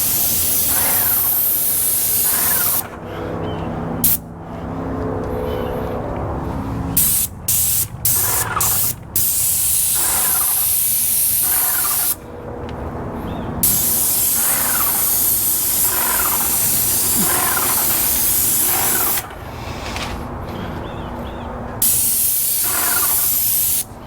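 A paint sprayer hisses loudly in long continuous bursts while painting garage door trim, stopping briefly between passes and starting again, harsh and close.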